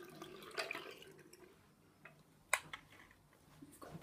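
Water runs from a bathroom sink tap in a mouldy bathroom, a faint, steady wash for the first second or so, followed by a few soft drips and knocks in a quiet room.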